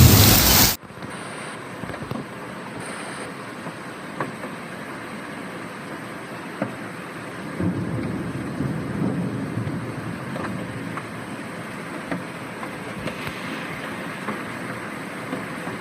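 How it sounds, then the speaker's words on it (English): Storm noise from an extreme-weather hailstorm with strong wind in China, where hail dents parked cars and cracks windows: a loud buffeting burst at the start, then a dense, steady roar of wind and falling precipitation that swells midway. "hailstones rained down, their sharp impacts leaving dents in parked cars and cracking the occasional window pane."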